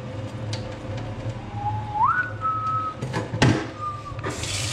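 Whistled tune in a kitchen, a few sustained pitched notes that slide and hold, moderately loud over steady background hum with brief clatter.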